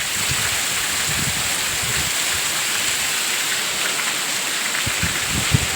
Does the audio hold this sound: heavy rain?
yes